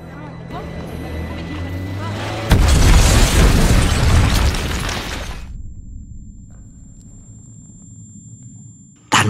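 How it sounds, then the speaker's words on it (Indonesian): A sudden loud bomb blast erupts with a roaring, crackling burst that slowly fades into a dull rumble, followed by near silence. "Tanpa diduga, bom akhirnya meledak."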